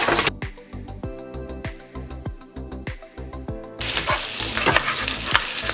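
Bacon fries in a pan with a loud, close crackling sizzle that grows denser and hissier toward the end, broken by rapid popping spatters, and no one speaks.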